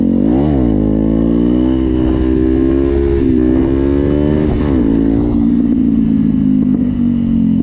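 A Yamaha 125 WRX supermoto engine revs hard during a wheelie, a loud close buzzing drone that rises and dips in pitch with throttle changes throughout, without talking.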